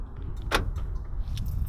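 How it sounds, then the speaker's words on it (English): A Toyota Supra unlocks with the key fob button, giving a brief mechanical clack near the start and a faint click later, heard close over a quiet low background hum. "That's going to lock and unlock the car."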